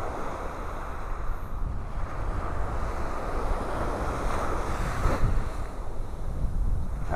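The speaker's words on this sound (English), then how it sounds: "That wind is coming right in off the Gulf." Wind blows in off the Gulf at a North Naples, Florida beach, with a steady roar of churned-up surf and buffeting wind noise on the microphone, with no voices.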